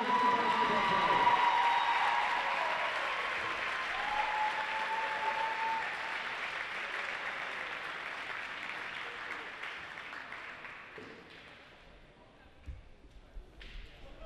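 A gym crowd at a high school basketball game claps for two players, with loud, dense applause at first that slowly thins and fades toward scattered claps and a few thuds near the end.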